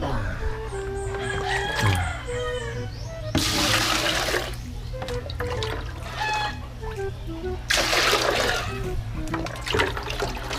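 Water is scooped and splashed for cleaning in a rural yard, with loud bursts of pouring and splashing in two main surges, while chickens cluck and a rooster crows nearby and voices talk faintly in the background.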